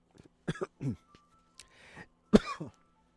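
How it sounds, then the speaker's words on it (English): A few sharp coughs and throat-clearing bursts, close by, scattered across a few seconds with short pauses between them. "Whoa, coughing"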